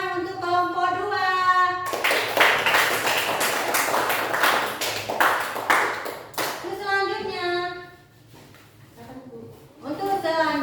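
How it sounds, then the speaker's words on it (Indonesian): A classroom of students claps for a presenting group, a loud burst of many hands lasting several seconds, framed by a teacher's speech before and after. "beri tepuk tangan untuk kelompok 2."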